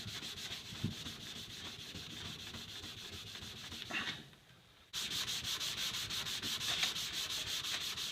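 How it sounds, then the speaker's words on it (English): Rust being scrubbed off an E.C. Atkins handsaw blade with a scrubby pad on a firm surface, making a steady, close rhythmic abrasive rasp of fast back-and-forth strokes, with a brief pause partway through before the scrubbing resumes. "Let me get my scrubby. Scrub it on a nice firm surface here"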